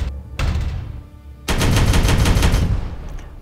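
Rapid gunfire in the video game Regicide, a short burst followed by a louder sustained fusillade of close, dense shots.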